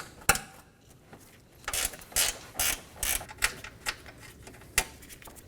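A ratchet wrench undoes the 10mm bolts on a Dodge Durango's refrigerant line bracket, giving bursts of quick metallic clicking with short pauses between them, close and clear, with no talking.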